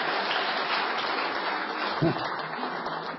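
An audience at a televised award ceremony applauds steadily as the best-person-of-the-year award is presented, a dense, continuous wash of clapping that fills the whole moment, with a brief voice or shout breaking through near the middle.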